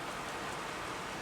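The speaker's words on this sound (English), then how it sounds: "The rain falls steadily over the entire panorama" Steady rain falls over a city at night, a continuous even hiss of drops with no pauses, moderately loud and filling the whole moment alone without voices.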